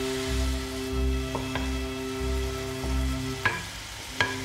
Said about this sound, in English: You can see that it's browning, so now I'm gonna start to stir it.